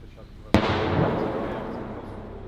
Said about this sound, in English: And that's the sound of yet more heavy artillery.